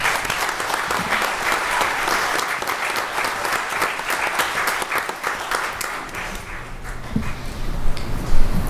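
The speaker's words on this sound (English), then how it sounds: "So would you give him a round of applause?" An audience claps in sustained, dense applause that stays fairly even throughout, with no talking over it, at a Board of Supervisors meeting honoring a long-serving employee.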